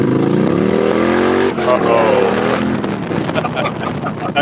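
Indian motorcycle engine revving loudly on the streets of Tokyo, carried over a live stream with steady wind-buffeted engine drone, rising and falling revs, and some background voices.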